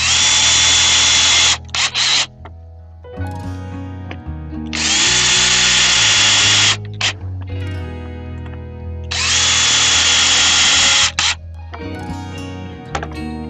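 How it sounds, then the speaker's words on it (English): A power drill drives three screws into a wooden planter box, sounding as three loud, sustained whirring bursts separated by pauses filled with clatter and knocking of the wood and parts. "we're going to go ahead and put the 3 screws in here"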